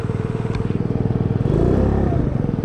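An Icebear Maddog scooter, a Ruckus clone with stock variator and upgraded clutch, runs steadily with a rapid, even engine putter, loud and close, swelling slightly midway as it revs.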